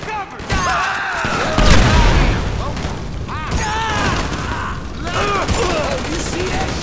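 Grenade blasts and gunfire during a shootout in Grand Theft Auto V, with heavy booms and crackling shots bursting over continuous background noise while voices shout and talk over the action.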